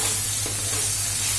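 Mustard and spice paste frying in oil in a pan, a constant, fairly loud sizzling hiss over a low steady hum, unbroken for the whole moment.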